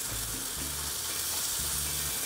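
Onions frying in an oiled pan for poblano tacos give a steady, even sizzle with a low hum beneath it, heard alone without talk.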